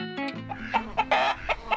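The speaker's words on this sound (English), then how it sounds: "This is my noisy rooster." A backyard rooster with chickens clucking close by, a quick run of sharp, irregular clucks and squawks over a low steady background, with no talking.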